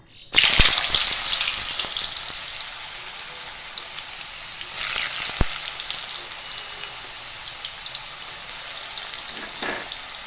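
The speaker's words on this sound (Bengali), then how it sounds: "তেল তেতে গিয়েছে এবার এর মধ্যে আমি অল্প অল্প করে ছেড়ে দেব" Potato slices for crisp chips drop into hot oil and fry with a loud, steady crackling sizzle that bursts up at the start, then settles into a continuous close hiss with a few sharper pops.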